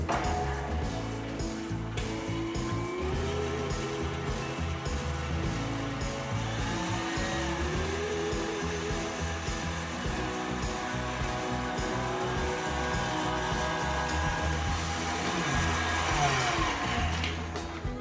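Electric mixer beating pumpkin bread batter, a steady loud motor whir running continuously with slight pitch shifts as the beaters work through the mixture.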